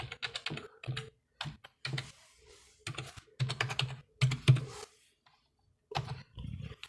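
Bursts of quick clicking keystrokes on a computer keyboard while entering a password, arriving in short irregular clusters separated by brief pauses, close and fairly quiet.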